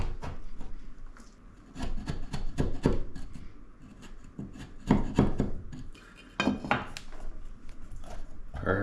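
A wood edge of a pocket door opening is trimmed by hand, giving close, irregular scraping and rasping strokes in short bursts with brief pauses, with no speech.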